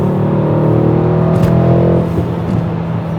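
A Mercedes-Benz fitted with aftermarket intakes and exhaust drives along, its engine a steady close rumble with a low hum that eases slightly near the end.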